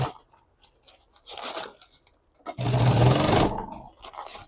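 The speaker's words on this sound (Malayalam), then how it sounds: "വെറുതെ ഇതൊന്ന് ജസ്റ്റ് ഒന്ന് സ്റ്റിച്ച് ചെയ്താൽ മതി" A sewing machine stitching along the folded edge of a fabric bag made from a trouser pocket, running in short bursts with pauses, one longer loud run in the middle, close up.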